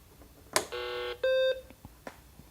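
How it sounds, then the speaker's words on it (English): A BBC Micro computer starts up: a short electronic click followed by two steady tonal beeps, the second lower and louder, then quiet with a few faint clicks. "Beep."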